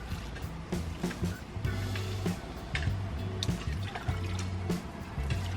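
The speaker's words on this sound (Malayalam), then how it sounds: "പൈപ്പ് പിടിച്ച് നനയ്ക്കാതെ ഇങ്ങനെ കപ്പിൽ വെള്ളം എടുത്തിട്ട് ഒഴിച്ചു കൊടുക്കണം" Water poured from a cup onto a young watermelon seedling in dry soil, in quiet intermittent splashes and trickles over a low steady hum.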